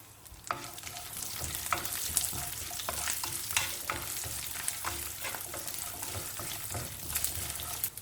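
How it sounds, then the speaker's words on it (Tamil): Garlic cloves, sliced ginger, fennel seeds, pepper and cumin sautéing in a little sesame oil in a kadai, a steady close sizzle broken by frequent sharp stirring clicks and scrapes, with no talking. "முதல்ல மசாலாவை வதக்கி எடுத்துக்கலாம்."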